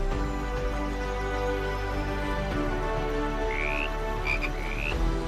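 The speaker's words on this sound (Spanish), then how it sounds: "El chirrido de los insectos se mezclaba con el croar de las ranas venenosas" Poison frogs croak steadily in an Amazon swamp, a dense layered chorus with insects chirping behind it. A few rising whistles stand out near the end. It is continuous and moderately loud, with no voices.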